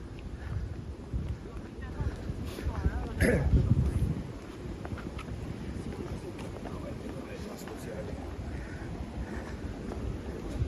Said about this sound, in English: Wind picking up.